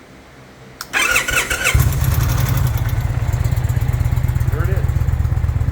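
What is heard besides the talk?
Indian Pursuit motorcycle stock exhaust running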